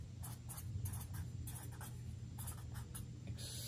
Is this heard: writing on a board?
yes